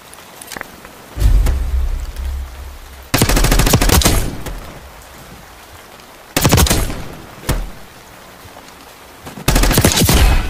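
Gunfire in the Call of Duty Black Ops 6 video game comes in loud automatic bursts, about four separate volleys of rapid shots with quieter footsteps and game ambience between them.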